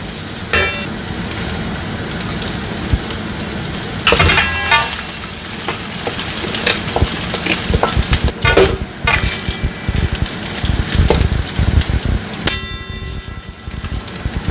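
Noodles are stir-fried in a pan with Indian masala for paneer tikka noodles. A spatula scrapes and tosses them in rapid, uneven bursts over a steady sizzle, loud and close.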